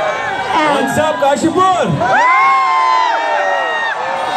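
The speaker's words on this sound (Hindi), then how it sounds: "जोर से तालियां हो जाए, मेक सम नॉइज" A crowd cheers and whoops at a lively public event in Kashipur, loud shouts and excited voices swelling together while an announcer talks over the noise.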